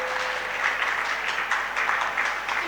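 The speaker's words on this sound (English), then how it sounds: "Can we have a round of applause?" Audience at the Synapse-2022 dermatology conference inauguration clapping for a speaker, a brief, even burst of indoor applause with no voices over it.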